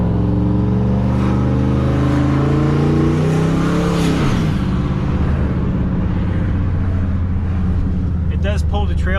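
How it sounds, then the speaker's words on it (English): Turbocharged GMC pickup truck exhaust while towing a loaded trailer, a loud continuous engine drone that swells and shifts pitch like an upshift around four seconds, then settles into a steady pull, with a brief faint voice near the end. "just listen to the exhaust with a loaded trailer"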